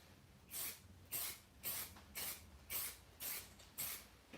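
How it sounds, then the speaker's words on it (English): Spray fixative hisses onto a car drawing in eight short, evenly spaced bursts about half a second apart, each a soft close puff with quiet gaps between. "let's spray fix,"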